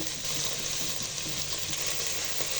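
Chicken fried rice stir-fried over high heat sizzles steadily and loudly in the pan, a dense continuous hiss over a short stretch with no talking.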